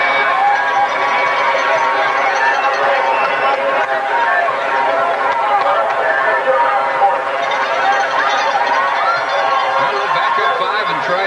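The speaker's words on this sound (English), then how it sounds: "And you hear the crowd react." Large football stadium crowd at a college game reacting with a broad, sustained roar and murmur, loud and steady throughout with a brief lull midway.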